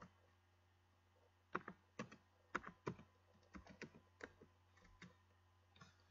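Rapid keystrokes on a computer keyboard come in irregular bursts and single clicks, close and fairly quiet, over a steady low hum with no talking.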